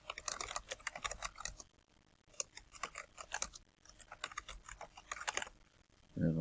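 Typing on a computer keyboard, with quick, uneven bursts of light key clicks and short pauses, close and quiet, no one talking.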